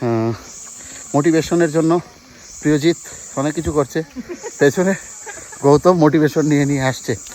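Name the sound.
crickets chirping in tropical rainforest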